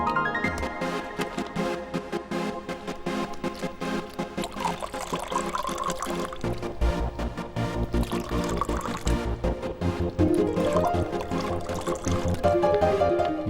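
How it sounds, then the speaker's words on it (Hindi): Water is poured into glasses at a table, a continuous steady pour running under a dense, loud background of film music and ambience. "पानी तो डालो।"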